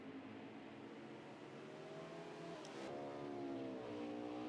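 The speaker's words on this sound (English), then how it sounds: "You can just hear how the car has to slow down so he can regain control" A race car in a racing video game at Charlotte drones with a steady, loud engine note that shifts pitch after losing grip, sustained without pause and with no voices.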